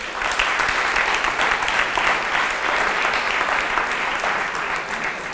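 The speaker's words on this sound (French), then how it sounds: "Nous avons donc ce soir un rappeur engagé, humaniste, que vous pouvez applaudir également." A crowd at an evening event on the Thomas Sankara trial gives steady, full applause to a politically engaged rapper, a dense unbroken roar of clapping with no talk over it.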